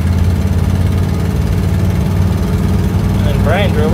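A 1955 Ford Fairlane engine droning steadily while the car is driven, a loud low hum with harmonic layers throughout, and a brief whistling tone near the end.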